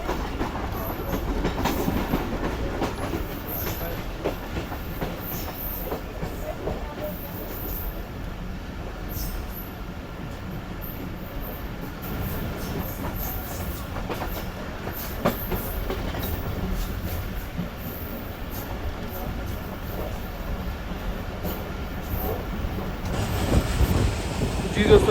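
The Khyber Mail passenger train runs on the tracks at night, its steady rumbling roll and rhythmic wheel clatter filling the car continuously, with a faint voice now and then.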